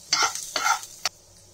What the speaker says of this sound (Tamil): பொட்டுக்கடலை சேர்த்துட்டு இது நல்லா வதக்கிக்கோங்க